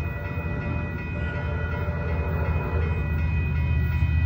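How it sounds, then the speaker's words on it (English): An Amtrak F59PHI diesel locomotive horn sounds in a long, steady blast over the low rumble of a passing Capital Corridor train on Williams Street, San Leandro, California. "It's a good horn sound on that F59 PHI."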